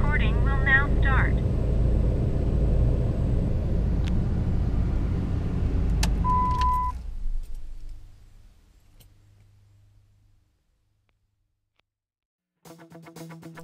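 A car driving on a highway, recorded by a Thinkware H50 dash cam: a low, steady road and engine rumble that fades away after several seconds, followed by short electronic tones.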